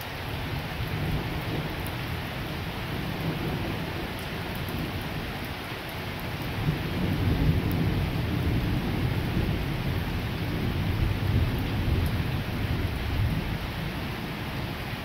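A heavy thunderstorm pours down in a steady, dense hiss of rain, with low rumbles of thunder swelling in the middle and rolling on near the end.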